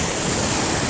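Waves from a slightly rough sea wash continuously against the shore at Jesolo Lido with a broad, rushing roar, mixed with wind buffeting the microphone.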